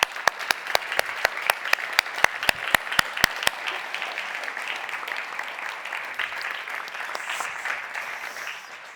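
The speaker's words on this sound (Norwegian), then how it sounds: "Gi henne en varm applaus." Warm applause from an audience at the Nobel Peace Center as a speaker takes the stage, opening with sharp rhythmic claps over a dense crowd wash that settles into steady clapping for several seconds.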